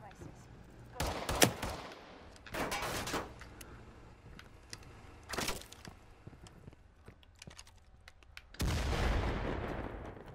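Grenades going off in the VR shooter Firewall, several loud blasts with long noisy tails spaced apart, the last one rumbling on at the end, with faint chatter between.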